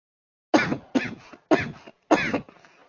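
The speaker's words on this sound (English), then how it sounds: "Sorry, I'm having some cough and cold." Four sharp coughs in quick succession, close and fairly loud, each a short burst with brief gaps, alone in an otherwise quiet room.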